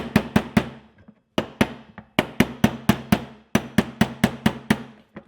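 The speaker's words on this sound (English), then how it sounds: "If you have access to a brass hammer like this, I suggest using one." A brass hammer taps roll pins into a Ruger American rifle's MDT chassis: loud, sharp metallic strikes come in quick bursts of three to six with brief pauses, close and alone.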